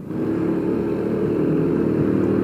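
A 2005 Yamaha Mio scooter engine revving steadily, close and loud with a constant droning hum and no talk, from a bike with trouble taking sudden throttle.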